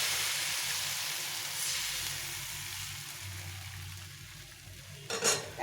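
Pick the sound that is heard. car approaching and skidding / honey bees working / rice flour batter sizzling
rice flour batter sizzling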